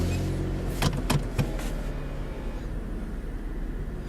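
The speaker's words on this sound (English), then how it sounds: "So starting up the car." A Mitsubishi 3000GT VR4 starts up: a few quick cranking pulses, then the engine catches and settles into a low, steady idle, heard from inside the car with no talk.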